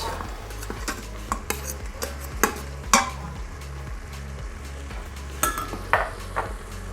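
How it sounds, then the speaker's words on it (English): Browned vegetables for vegan split pea soup stirred in an Instant Pot: repeated clinks and scrapes of a utensil against the metal pot over a low steady hum, with a gentle sizzle underneath. "Give these a quick stir first."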